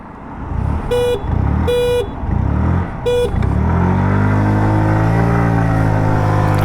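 Three short horn toots from a 2026 Hero Xoom 125 or Suzuki Avenis 125 scooter, each about a second apart, then the engine pulls away at full throttle in a loud, rising whine that holds steady.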